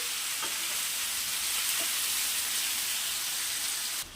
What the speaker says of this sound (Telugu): తగినంత ఉప్పు, ధనియాల పౌడరు, కారము వేసి బాగా ఇవి కలపాలండి